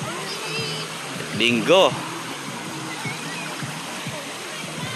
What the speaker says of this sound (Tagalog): So, dito kami sa Bunsuran Falls.